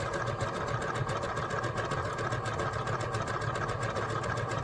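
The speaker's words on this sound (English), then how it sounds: "continue sewing. Yeah, this is the boring part where you sit here and watch me sew" Sewing machine stitching a fabric garden flag, a rapid steady mechanical chatter at close range, continuous throughout.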